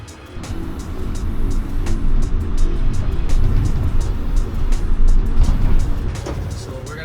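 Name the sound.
Chevrolet BrightDrop 400 electric van driving off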